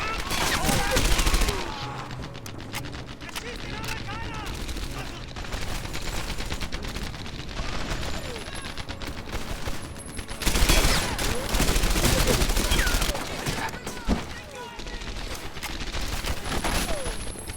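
Rapid gunfire bursts from the World War II shooter Medal of Honor: Airborne, loud and dense with a sustained fusillade, sharp volleys swelling near the start and again in the middle amid battle noise.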